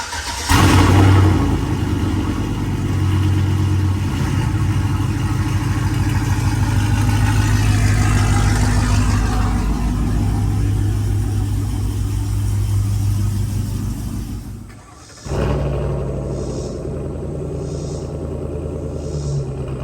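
A pickup truck engine runs loud and close, a deep steady rumble with revving swells, then briefly drops away before settling back into a lower idle.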